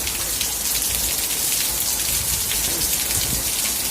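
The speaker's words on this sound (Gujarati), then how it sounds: "આવું વાવાઝોડું છે." Heavy storm rain in a Gir village, a dense constant roar of drops pounding surfaces nearby, no voices.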